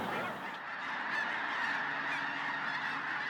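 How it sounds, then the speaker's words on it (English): A flock of geese honks as the birds take off into the wind, a dense chorus of overlapping calls that swells slightly and keeps going, fairly close and loud. "the birds taking off into the wind help you predict which way they're going to fly"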